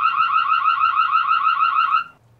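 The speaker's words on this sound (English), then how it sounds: "You can trigger the audio alarm, and you just hit that, and it'll start screaming." A Reolink Duo 2 PoE security camera sounds its siren alarm, a loud, piercing electronic warble that sweeps up and down rapidly for about two seconds and then cuts off abruptly, leaving quiet.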